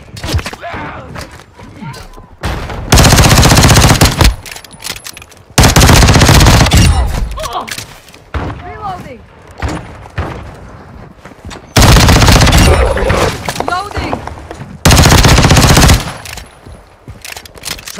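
Heavy automatic machine gun fire in the Modern Warfare 3 Infected mode, long loud bursts repeating with short gaps, while players shout over the shooting.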